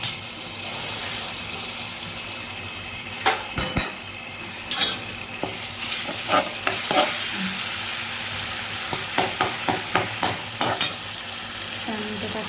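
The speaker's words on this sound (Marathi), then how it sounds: "त्यासाठी मी तेल टाकले कढईमध्ये. त्यानंतर अद्रक लसूण पेस्ट," Ginger garlic paste fries in oil in a kadhai, with a steady close sizzle running throughout and a series of sharp spoon clinks and scrapes against the metal as it is stirred.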